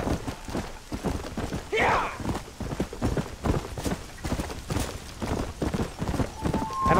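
Horse hooves clip-clop steadily along a winding road in the video game Red Dead Redemption, rapid rhythmic beats close by, with a brief whinny partway through.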